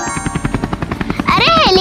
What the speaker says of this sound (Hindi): अरे हेलीकॉप्टर की आवाज